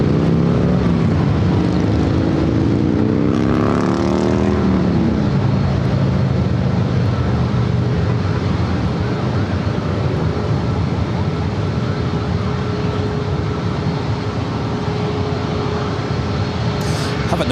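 A Boeing 737 MAX 8 at San Diego airport gives a steady, loud jet roar that holds throughout, with a falling whine early on and a faint announcer's voice over it.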